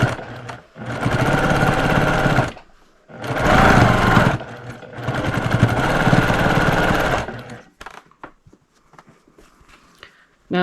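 A sewing machine stitches quilt fabric made from scraps in three long runs separated by short pauses, a steady rapid whirring hum, followed by a few quieter handling taps and clicks near the end.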